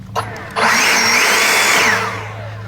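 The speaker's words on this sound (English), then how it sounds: "got the blower here" A leaf blower clears debris around a lawn sprinkler head during lawn maintenance, roaring up loud and close after a brief click, holding a steady whooshing drone for over a second before fading down.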